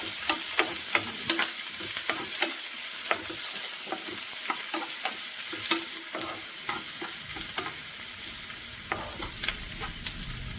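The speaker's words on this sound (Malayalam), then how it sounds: "സവോള നല്ലതുപോലെ ഒന്ന് വഴറ്റിയെടുക്കാം" Sliced onions sauté in a pan for beef pothi porotta, giving a steady soft sizzle punctuated by frequent sharp clicks and scrapes of a spoon stirring against the pan.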